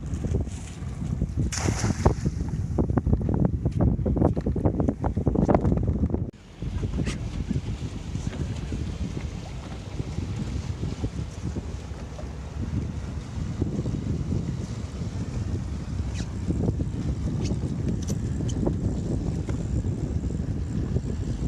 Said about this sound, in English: I gotta run the boat